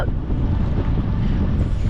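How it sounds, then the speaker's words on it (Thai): Strong headwind roaring over the microphone while riding a Fiido C11 electric bike through an English village in drizzling rain, a steady close buffeting rumble throughout with no pauses. "เพราะลมตีหน้าแล้วก็"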